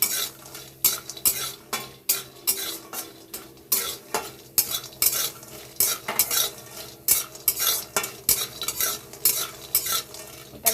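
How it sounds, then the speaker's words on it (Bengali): Lentil dumplings (bori) frying in oil in a pan, with a spatula scraping and stirring in a quick, steady rhythm over a soft sizzle, close up and with no talking. "তাই বড়িটা ভেজে নিচ্ছি ভালো করে"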